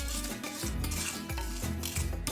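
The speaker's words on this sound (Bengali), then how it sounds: "ফ্লেমটাকে মিডিয়ামে রেখে মশলাগুলোকে ভেজে নিচ্ছি" Dried red chillies and fennel seeds frying in oil over a medium flame, a steady soft sizzle with repeated scraping stirs of a spoon against the pan, close and fairly quiet.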